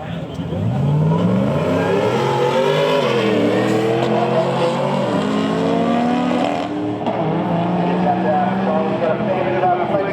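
A Barra Turbo car at a drag strip event runs loud and close, its engine note rising and falling through gear changes over a steady roar, with a commentator's voice talking over it throughout.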